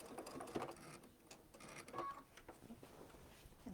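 A sewing machine stitches quilt binding close to the edge, a quiet mechanical whir with brief bursts and pauses, fairly near and alone.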